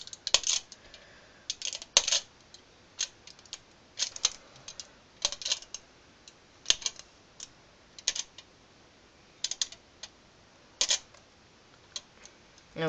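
Small holes being poked one by one into aluminium foil stretched over a hookah bowl, a string of sharp, dry ticks and taps in irregular bursts, close up with no voice.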